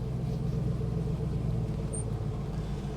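An LS V8-powered Toyota Landcruiser engine rumbles steadily from inside the cabin, a low, constant drone with road noise and no talking.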